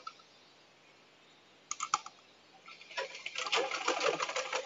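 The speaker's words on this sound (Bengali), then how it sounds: "তো এখন আমি এটার উপর মাঝখানে একটা সেলাই করব" A sewing machine stitches elastic into a salwar, starting with a few isolated clicks, then running in a steady rapid buzz of close, moderately loud stitching.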